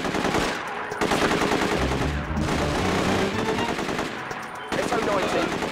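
Gunfire in The Getaway PS2 video game, set in Soho: rapid automatic bursts rattle loudly and almost continuously, broken by short pauses, with game dialogue faintly underneath.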